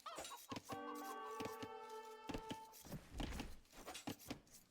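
Chickens cluck in the game Age of Empires II, giving a burst of close, agitated clucks and a drawn-out squawk, followed by scattered sharp in-game hits and clatter.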